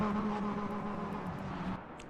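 Lamborghini Huracan GT3 race car engine in the Le Mans Ultimate sim, droning at a steady high pitch for about two seconds, loud and close with no voices over it.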